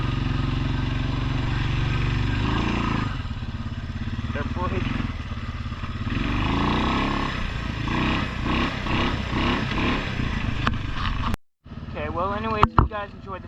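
A vehicle engine drones steadily while driving across floating mats laid over a flooded trail after a hurricane, the note rising and falling with throttle, someone talking over it, then a sudden cut.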